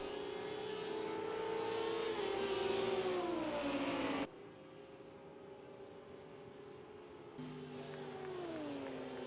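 GT3 race car engines in the Project CARS 2 racing game at the Texas road course roar loud and steady, with rising and falling pitch as cars shift and accelerate close together, with no talk.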